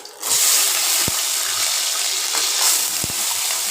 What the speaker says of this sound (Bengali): আলুগুলোকে খুব ঝিরি করে কুটে নিয়েছি, কড়াই তেল গরম করতে দিয়েছি। আলুগুলো ছেড়ে দেবো এবার।